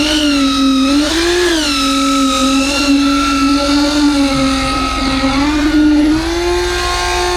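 A concrete vibrator runs on a house construction site, its motor holding a loud, steady droning whine with slight dips in pitch as it works.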